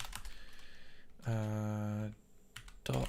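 Computer keyboard typing during a live coding session, with short bursts of clicky keystrokes at the start and end and a sustained tonal sound in between.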